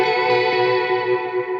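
A single sustained guitar note rings through an Echo Park delay, Dark World and MXR reverb pedals and a VB2 vibrato. It is softly picked and full, with a wavering, chorused shimmer, and fades slightly.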